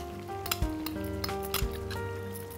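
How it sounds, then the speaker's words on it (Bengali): About a cup of onion goes into a pan of chicken frying in mustard oil, setting off a steady loud sizzle with scraping stirring strokes and a few soft clinks of utensil on pan, and no voices. "তো এখানে আমি পেঁয়াজটা দিলাম 1 কাপের মতো"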